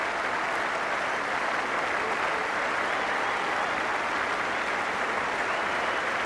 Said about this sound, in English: he should get a great ovation